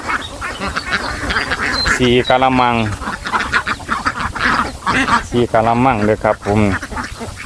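A flock of egg-laying ducks on a rural farm beside a pond quacks after feeding, loud nasal calls bursting in clusters close by while someone talks over them.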